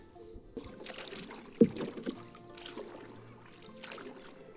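Oars dip and splash softly in calm water, with a clear slosh near the start and quieter paddling strokes after, close by.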